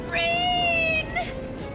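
A single drawn-out cat meow with a falling pitch and a short second call after it, loud and close, from the video game Trails of Cold Steel II.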